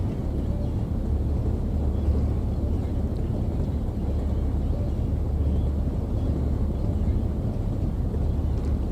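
Steady low rumble of a diesel train engine with wheels rolling over the track in Train Sim World 2, an 80s Northern Trans Pennine service, a continuous droning hum without distinct clacks standing out, and no talking.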